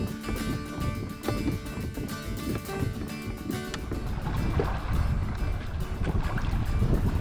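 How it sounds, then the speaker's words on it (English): Strong, steady wind roars across the microphone while paddling a Hobie kayak along the Intracoastal Waterway toward the Outer Banks, with water sloshing and buffeting noise throughout. "we went from no wind to really cranking wind"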